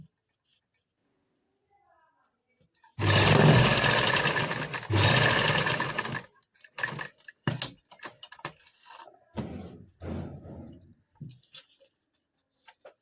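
Domestic sewing machine running a long basting stitch down the center of a kurta neckline, two sustained loud whirring bursts followed by shorter stop-start runs of stitching, with no other sounds in between.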